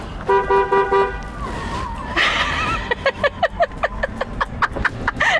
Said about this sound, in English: And they need this honk as I turn this corner.